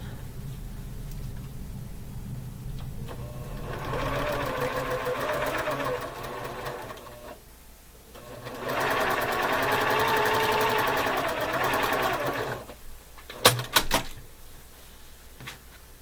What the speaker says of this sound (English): I'm going to sew them on first, and then we'll trim them away and press it.